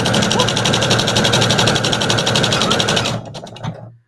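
A home sewing machine runs steadily, stitching an appliqué beach towel, a loud continuous whirring buzz for about three seconds before it stops abruptly, leaving a brief faint clack as it trails off.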